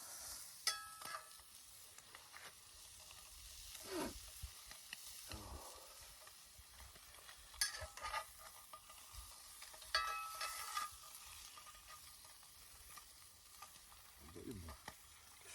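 Spam frying in a skillet over a campfire at a campsite gives a low, steady sizzle, with occasional scrapes and clinks of a utensil against the pan.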